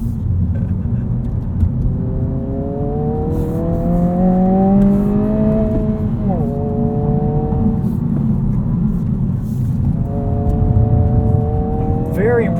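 A 2022 Honda Civic Si sedan engine accelerating under throttle from inside the car, with a steady rumbling drone and rising harmonic sweeps as it pulls through gears, continuous and close.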